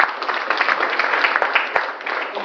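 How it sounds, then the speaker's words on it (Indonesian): Loud, close audience applause at an Indonesian product presentation event, a thick continuous clatter of many hands with a few sharp individual claps standing out, lasting a couple of seconds. "berikan tepuk yang luar biasa untuk para pengundangannya"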